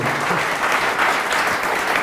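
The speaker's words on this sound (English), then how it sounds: "let's give a round of applause to Pete Kazan" A live audience claps for speaker Pete Kazan at the close of a sales-leadership event, steady dense applause filling the room at full strength throughout.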